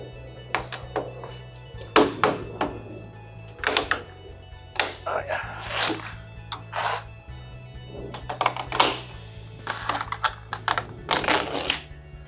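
A flathead screwdriver and a scraper pry at a truck camper window, giving repeated sharp clicks, taps and knocks between stretches of talk.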